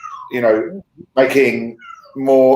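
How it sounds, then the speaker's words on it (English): A cat meows several times, drawn-out and fairly close, each cry separated by short pauses, while a voice is heard speaking briefly over it. "That's the cat in the background, if you can hear"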